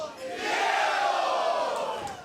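Wrestling crowd at a match roars in a short swelling burst of cheering and shouts, loud and distant-sounding, with no talk over it.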